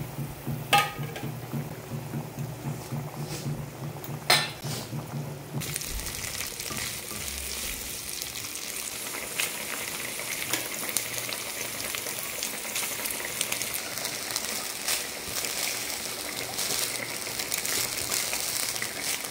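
Raw, unfried fish added to sizzling spice paste in a pan, giving a steady loud frying hiss throughout with a few clatters early on, alone with no talk.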